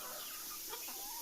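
Free-range gavran chickens in a shed cooled by foggers cluck softly and intermittently against a steady hiss of the spray. No voices are heard.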